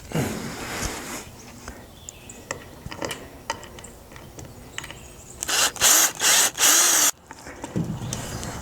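A power drill drives fasteners through wood into a conduit arbor frame, with several short whirring bursts and a run of loud, closely spaced bursts near the end, plus clicks and handling knocks between them.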